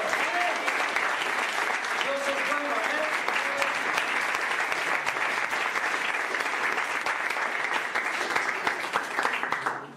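A church congregation applauds steadily and loudly for about ten seconds while a preacher's voice speaks briefly in Spanish over the clapping.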